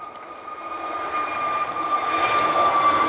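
A Kuwait Airways Airbus A320neo lands on its first flight out of Manchester, its jet engines roaring steadily with a high whine, growing louder as the aircraft comes closer.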